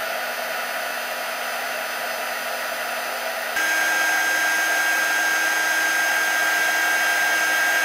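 A heat gun running on high heat to melt a seasonal candle belly band, giving a steady close whooshing blower hiss that shifts slightly louder partway through, with no talking.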